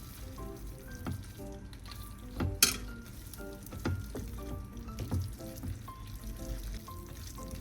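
Pasta tossed into a pan with shrimp for a spinach pesto dish, with a steady soft sizzle throughout and scattered scrapes and clinks of stirring, one sharper clatter partway in.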